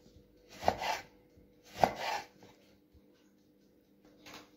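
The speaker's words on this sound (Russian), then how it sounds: "Нарезаем лимон пополам. И на такие" A knife halves a lemon on a board, then cuts thin slices: two close, crisp slicing strokes, then a fainter third cut after a pause.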